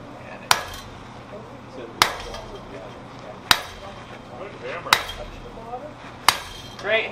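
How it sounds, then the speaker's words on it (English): Blacksmith hammer blows on hot metal at a blacksmith conference, five sharp ringing strikes spaced about every one and a half seconds, loud and close over a murmur of crowd noise. "Great hammering. Hit that right dead center."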